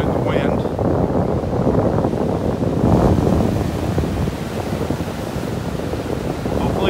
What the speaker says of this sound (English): it's a little rough out here. Camera's getting tossed around in the wind.